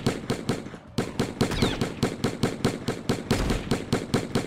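Rapid, steady gunfire aimed at zombies in the Zombie Battlefield Survivors video game, a continuous string of sharp, evenly spaced shots with a brief break near the start.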